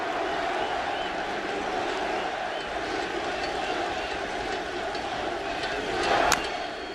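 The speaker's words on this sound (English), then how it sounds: "Crowd's into it." Near-sellout stadium crowd at a 2017 World Baseball Classic game between the USA and the Dominican Republic, a steady roar of cheering and chatter that swells briefly near the end, with a whistle cutting through.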